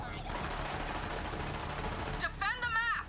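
Rapid automatic gunfire rattles in the video game Borderlands 3, loud bursts filling the short clip as a player talks over the shooting.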